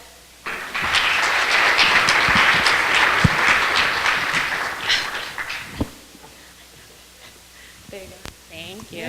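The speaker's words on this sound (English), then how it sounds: "Can we have another round of applause for our lovely contestants today?" An audience at a small-town festival beauty pageant claps loudly for about five seconds, a dense, steady wash of applause that fades to scattered claps and quiet murmuring.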